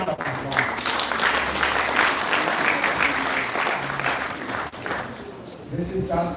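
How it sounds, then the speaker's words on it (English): A large audience applauds a guest speaker at a university leadership event, steady dense clapping held for several seconds with voices mixed in beneath it. "let's give Dr. Daimler a big round of applause"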